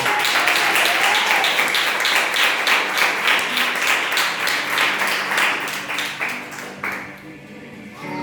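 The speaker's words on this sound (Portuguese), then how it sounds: "Salva de palmas, por favor." Audience applauding in a church service, a sustained burst of rapid clapping that fills the room and gradually thins out, ending with scattered claps.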